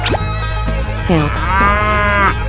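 A cow moos in a long, loud, drawn-out call with a rising then sustained tone, close and clear over a steady low background hum.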